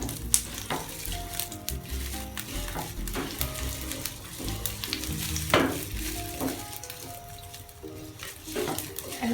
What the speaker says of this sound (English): take the sauce in the pan and fry it for a while.